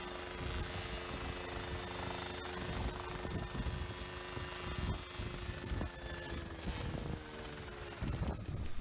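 A homemade coaxial helicopter flies outdoors in shifting wind, its rotors producing a continuous buzzing, chopping drone with steady tonal whine and irregular thumps throughout, fairly distant and moderately loud.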